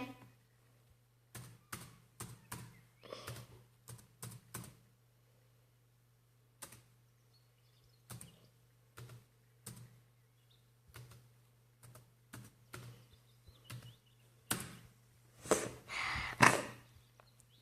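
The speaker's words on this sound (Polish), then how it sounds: "piszę tylko hasło" Bursts of clicks from a computer keyboard as a password is typed, fairly close, in uneven clusters with pauses, over a steady low hum and a louder clatter near the end.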